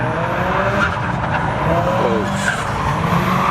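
A drifting car's tires squeal and skid continuously alongside steady engine noise, loud and close throughout the short stretch.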